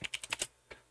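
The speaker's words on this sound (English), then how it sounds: "this is hard, typing and talking at the same time" Quick bursts of keystrokes on a computer keyboard, about six close taps in a cluster followed by a pause and one more tap, near and clear with no voice over them.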